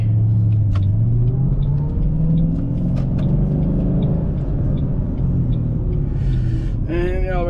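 A worn power steering pump on a 2008 Ford Mustang GT Premium whines while the car turns, a steady whirring tone riding over continuous engine and road rumble, loud and close throughout.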